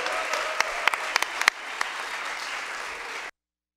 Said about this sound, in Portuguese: peço uma salva de palmas calorosa, Isaac